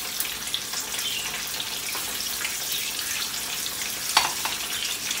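Halved jalapeño chiles fry in a pan with a steady, bright sizzle that fills the whole stretch, joined by occasional small stirring clicks and pops close by.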